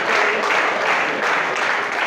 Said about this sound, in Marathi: ज्याने प्रामाणिकपणे जोराने टाळ्या वाजवल्यात